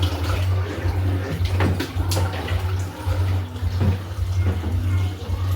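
Water runs steadily from a tap during rinsing while cleaning with vinegar, a continuous hiss over a low household hum, with a voice talking over it.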